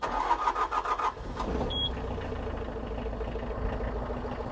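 A Mitsubishi MT 367 tractor's diesel engine cranks and catches in the first second, then settles into a steady, even idle that continues alone.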